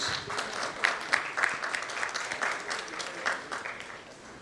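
Applause from a conference audience welcoming a presenter on stage at an IT leadership awards event, with steady clapping over several seconds that fades toward the end, heard at moderate distance and fairly quiet.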